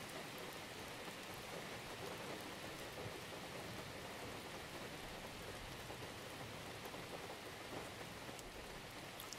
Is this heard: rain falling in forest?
yes